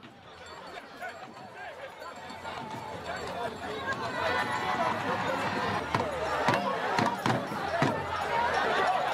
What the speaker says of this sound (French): il accepte de nous montrer les derniers pas de danse de son cheval